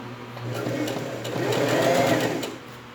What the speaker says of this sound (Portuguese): E vou passar uma outra costurinha para segurar.